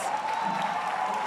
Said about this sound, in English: Beautiful, a round of applause.